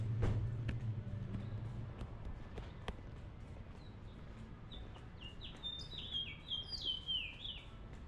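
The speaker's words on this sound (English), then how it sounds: "That is so pretty, the birds." Small birds chirp outdoors in a Texas hill-country shopping area, a run of quick, bright tweets clustering toward the end over faint ambient background noise and a couple of soft knocks.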